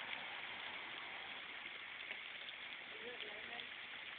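Summer storm rain falling steadily on surfaces, a soft continuous hiss, faint and even throughout.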